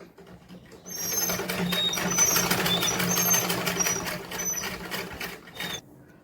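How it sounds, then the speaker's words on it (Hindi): A sewing machine runs steadily, stitching several passes along a salwar hem, a continuous close whirring clatter with fine rapid needle ticking that starts after a second and cuts off just before the end. "तो देखिए हम इस पे सिलाई चला रहे हैं"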